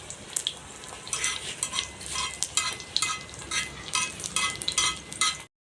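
Mughlai paratha fries in a pan with a steady crackling sizzle, broken by frequent scraping and tapping of a spatula, loud and close throughout before cutting off at the end.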